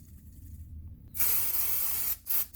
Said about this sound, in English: Grab yourself a can of white lithium grease and fire some at your hub